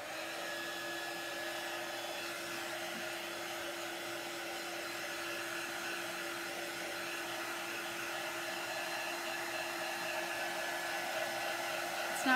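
A hair dryer runs steadily while drying a craft transfer taped to a table for a decorative gift box, a continuous close whir that holds level for the whole stretch with no talk over it.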